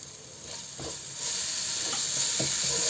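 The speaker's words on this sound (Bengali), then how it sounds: "ভালোভাবে মশলাটা একটু এই শুকনো মানে তেলের উপরে একটু মশলাটাকে নাড়া দিয়ে নেব" Spice powders with ginger paste and salt get stirred in hot oil, a steady sizzle and hiss that swells partway through, with a few soft scrapes of a spoon against the pan.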